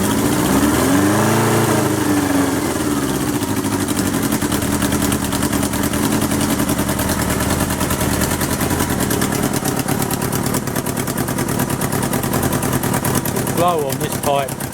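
A 1977 Kawasaki KZ650 B1 motorcycle engine is running loud and close, a dense rapid exhaust rumble with harsh popping that holds steady throughout, with a voice briefly heard near the end.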